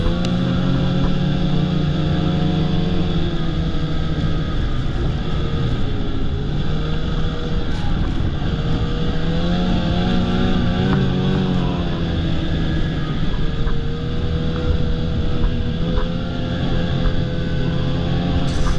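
A snowmobile rides a tight, wooded Tug Hill trail. Its engine gives a loud, continuous close-up drone with rising and falling pitch as the throttle shifts, steady throughout and with no talk.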